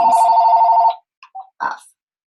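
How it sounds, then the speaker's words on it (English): A phone rings with a steady electronic tone for about a second, loud and close, then cuts off into a few short chirps and beeps. "Where is that coming from? My phone like never rings."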